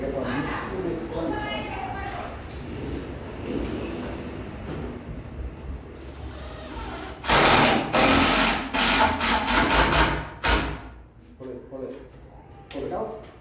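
A cordless power drill drives screws into wood in a few loud, whirring bursts near the end, with people talking beforehand and in between.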